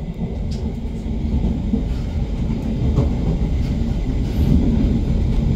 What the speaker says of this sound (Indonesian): Dan kereta direct train ini salah satunya yang bablas di stasiun Tegal ini